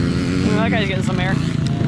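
Dirt bikes ride a motocross track at Wabash Cannonball MX, their engines droning steadily at a distance with rising and falling revs, while people talk nearby over the noise.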